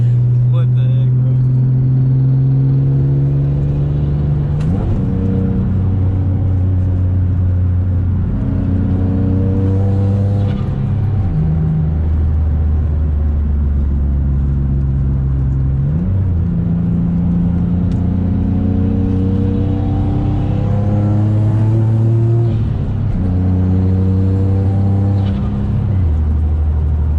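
A single-turbo Nissan G35 with a street tune accelerates hard while merging onto a freeway, its loud, close engine note climbing through repeated rising sweeps broken by gear shifts, with voices heard inside the car.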